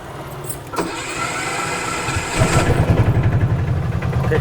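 A Bajaj Optima engine, just back from repair work, is cranked and catches about halfway through. It then settles into a loud, close, pulsing idle, with no talk.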